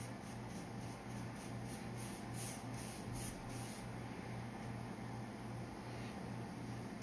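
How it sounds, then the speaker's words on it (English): Hand spray bottle misting water onto heavily textured wood during painting, a steady hiss with soft repeated bursts over a constant low hum, fairly close. "another reason I'm spraying it with the mister is because that little bit of water thins the paint out"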